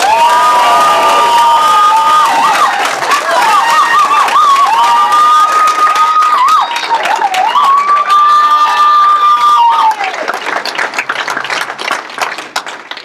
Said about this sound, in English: Big round of applause from Bailey's in New Zealand, Travis Smythe